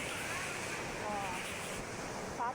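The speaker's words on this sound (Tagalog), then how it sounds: "Ang lakas ng alon guys." Strong ocean waves roll onto the beach at Playa Pino Resort in Bagac, Bataan, a faint, continuous wash of surf mixed with wind noise on the microphone.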